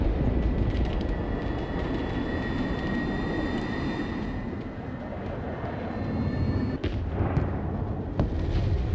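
A bombing run in the video game Broken Arrow, with a dense, continuous low roar of aircraft and rumbling blasts, a sharper impact near the end, and brief talk over it.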